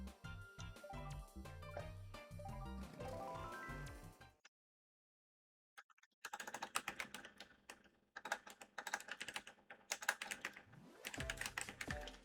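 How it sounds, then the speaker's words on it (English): Rapid clattering keystrokes on a computer keyboard during a Mario Kart CTGP speedrun stream, dense bursts of typing with a brief silent pause partway through, close and fairly loud, no talking. "I was too busy typing"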